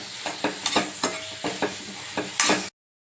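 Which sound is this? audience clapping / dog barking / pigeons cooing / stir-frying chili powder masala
stir-frying chili powder masala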